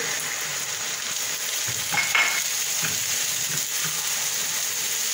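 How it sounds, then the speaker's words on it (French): Water hits a hot pan of sweet potato soup and brings on a steady, close sizzle of frying, with faint stirring scrapes and small clinks throughout. "J'ajoute un peu d'eau."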